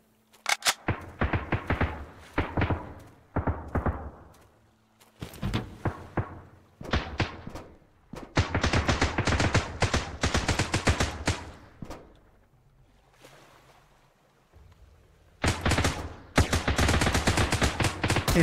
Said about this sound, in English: And I don't know from where they're shooting.